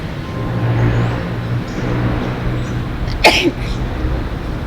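A single short, sharp sneeze bursts out against a steady background of road traffic rumble at the Panteón de Belén cemetery in Guadalajara.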